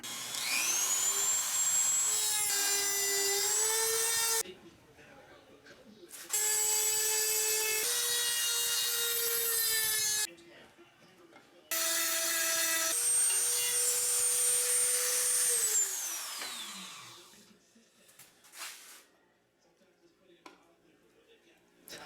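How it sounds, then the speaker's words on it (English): A high-speed rotary tool with grinding bits works on a snowmobile recoil plate from a 1991 Arctic Cat Super Jag, whining loudly in three long bursts that rise and fall in pitch, separated by short pauses, then spinning down. "We got some bits. We got a tool. Let's get grinding."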